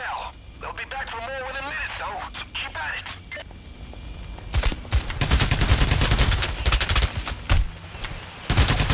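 Gunfire in the video game PAYDAY The Heist, a dense burst of rapid shots over the second half following excited talk, with a late separate blast near the end.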